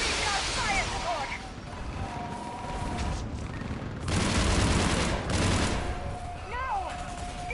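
Fire support gunfire in Mass Effect 3 rattles on as a dense, continuous barrage, with heavier bursts midway, under a thick wash of battlefield noise.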